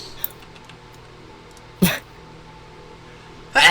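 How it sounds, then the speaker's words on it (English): A person sneezes twice in a quiet room, two short, sharp, loud bursts close to the listener, about two seconds apart. "I sneeze! I sneeze!"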